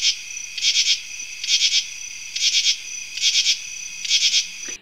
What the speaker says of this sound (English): These wings serve as resonance chambers that intensify their calls.